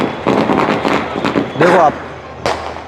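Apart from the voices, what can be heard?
fireworks on 12 Rabiul Awwal night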